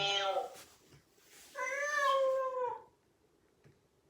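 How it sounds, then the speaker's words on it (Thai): A cat meows twice, a short call followed by a longer drawn-out one, both faint and close with quiet pauses around them. "แมว"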